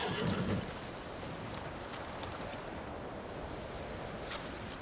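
A horse whinnies briefly at the start in Ghost of Tsushima, followed by a steady wash of game ambience with faint hoof sounds in the background.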